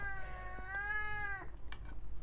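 A cat gives one drawn-out, tonal meow lasting over a second, close and clear in a quiet kitchen, followed by a few faint clicks and rustles.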